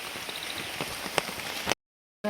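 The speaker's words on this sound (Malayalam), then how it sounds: "ഫോൺ നനയും മഴയുണ്ട്" Steady rain pattering on a surface, with a few louder drops, before it cuts to silence and briefly returns.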